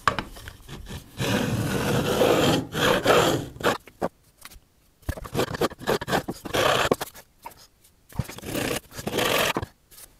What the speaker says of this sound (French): mon bloc incliné à 60 degrés pour refaire vraiment une dernière passe et venir tout simplement juste toucher le coin de la touche